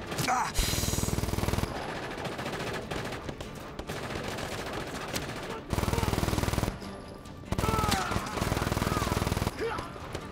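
Heavy automatic gunfire in the Just Cause 3 video game comes in dense, loud bursts separated by brief pauses, with explosive game effects mixed in.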